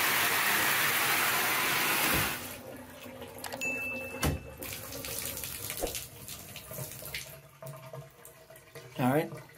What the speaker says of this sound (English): they're still getting water coming out the spout here